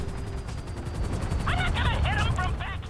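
Scattered gunfire in GTA V, a busy mix of shots under a chaotic in-game soundscape, with brief voice-like chirps partway through.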